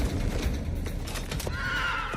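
A horse whinnies in a quavering, shaky neigh that rises and falls, close and clear, with faint hoof movement beneath and no voices.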